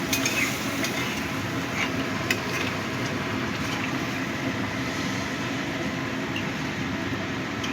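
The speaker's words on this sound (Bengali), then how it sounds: "এবার আমি দিয়ে দিচ্ছি গরম জল" Hot water poured into a pan of hot oil for a Bengali tangra fish curry with onions and potatoes, giving a steady, dense sizzle and hiss that runs evenly throughout with no talking.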